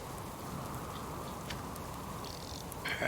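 Steady rain falling in the survival video game Subsistence, a continuous dense patter and hiss close by, with a few faint brighter ticks and a slight swell near the end, no talk.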